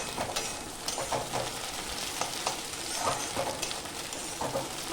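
Egg fries in a pan with salt, turmeric, ginger and onion paste while being stirred and broken into crumbles, a dense continuous sizzle with soft rhythmic scraping of the spatula, close and steady.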